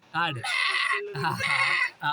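A human voice imitates a goat's bleat with a wavering, nasal "meh" drawn out in a couple of quavering pulses, close and clear.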